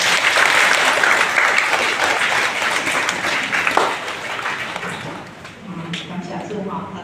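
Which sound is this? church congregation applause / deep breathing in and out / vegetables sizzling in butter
church congregation applause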